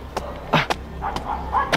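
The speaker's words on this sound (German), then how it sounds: "Leute, ich kann nur die Hunde hören." Dogs bark in a video game: several sharp, separate barks and yips come at irregular intervals over a quiet background hum, fairly close and loud.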